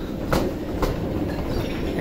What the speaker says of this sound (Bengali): এটা হচ্ছে অন্য গাড়ি, অন্য ট্রেন থেকে আসছে